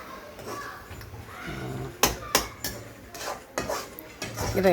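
Tomatoes cooking in a pot, stirred with a metal utensil that clanks and scrapes against the sides in sharp knocks over a soft background, close by.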